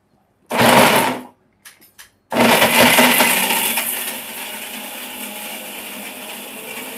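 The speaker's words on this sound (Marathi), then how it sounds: "मिक्सरचा आवाज होता तो" Mixer grinder grinding jaggery for a Diwali karanji filling: a loud, harsh whirring burst, a few short bumps, then a long continuous grinding roar that gradually eases to a steady hum.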